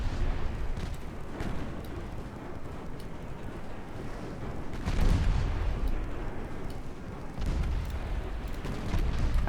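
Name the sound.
cruiser Youngstown firing guns in a naval video game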